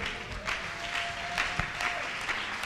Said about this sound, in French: Tenons-nous debout et acclamons le roi des rois.